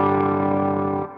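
An Electro Harmonix Stereo Pulsar effect pedal with its rate turned all the way up, giving a brief sustained, rich tone through the effect that holds for about a second before cutting off.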